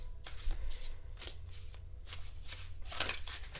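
Tarot cards being shuffled by hand, a quick series of crisp riffling bursts in uneven rhythm, close and fairly soft with no talking.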